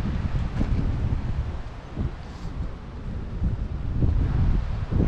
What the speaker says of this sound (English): very windy as you can hear